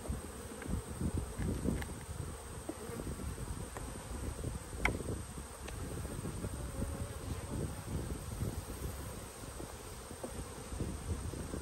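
Italian honey bees buzz around an open backyard hive with the honey super lifted off, a dense steady drone close to the microphone with a few louder passes and light clicks.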